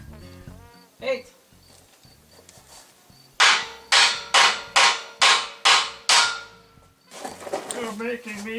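Hammer hitting metal while building a cab crane: seven loud, evenly spaced ringing clangs in a quick series, preceded by a single lighter strike, with some talk and background rattling around them.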